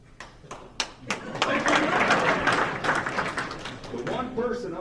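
Applause from an audience at a baseball first pitch dinner, starting as a few separate claps and swelling into steady clapping from many hands before fading as a voice resumes.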